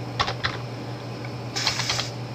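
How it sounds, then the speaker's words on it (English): Keys clack on a computer keyboard while a shortcut path is entered in Windows 8: a couple of quick taps, a pause, then a short flurry of keystrokes, close and clear over faint hum. "Then we need to type"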